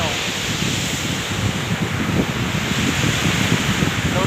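Surf washes steadily onto a clean beach shore at low tide, a continuous close rush of waves mixed with wind buffeting the microphone.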